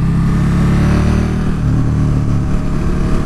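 A motorcycle engine revs hard on a race track during a novice track day, a loud, continuous mid-pitched roar with strong harmonics that holds steady and then shifts pitch slightly as the bike accelerates close by.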